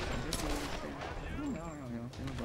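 Gunfire from the video game Tomb Raider crackles in quick, repeated shots at a steady level beneath someone talking.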